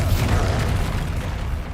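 A Bombarda explosion spell bursts in a Harry Potter video game as a loud, deep rumbling boom, heard alone with no talk over it.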